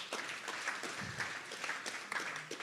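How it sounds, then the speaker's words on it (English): An audience at an entrepreneurship panel event claps briefly, quiet and somewhat distant, with scattered claps forming a short ripple of applause. "So please give yourselves a round of applause for coming out today."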